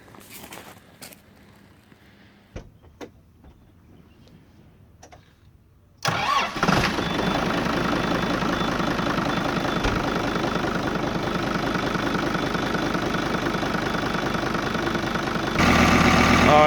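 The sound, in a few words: Kubota tractor engine starting and idling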